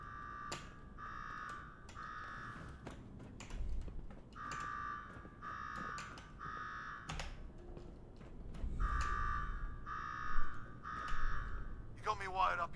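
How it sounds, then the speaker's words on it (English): An alarm in the video game Fallout 4 sounds as a regular train of pulsed electronic beeps. It repeats steadily over faint background noise and ends in a short burst of brighter tones. "Now go shut off that damn alarm."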